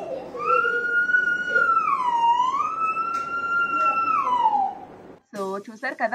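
A young child vocally mimics a police car or ambulance siren in one long, close, wavering wail, then a brief burst of other voices follows.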